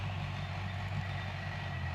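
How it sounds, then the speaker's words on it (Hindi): A tractor engine runs steadily out in a farm field, a continuous low idling rumble with a droning hum that holds even and moderately loud throughout, with no voices. "वो है ट्रैक्टर"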